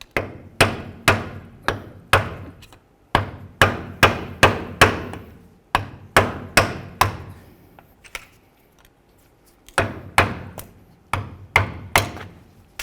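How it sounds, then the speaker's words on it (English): Sharp metallic taps from a screwdriver being hammered to drive out the pinion seal on a 1998-2012 Ford Crown Victoria, heard as close, evenly spaced strikes in bursts with a short pause midway. "Give it a couple bonks and try to drive this up and out of here."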